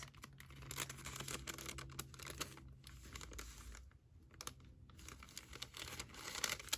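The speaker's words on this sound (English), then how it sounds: "I'm gonna cut another little flat piece" Paper being cut for a Christmas junk journal album: quiet, close, intermittent snipping and crinkling with brief pauses between strokes.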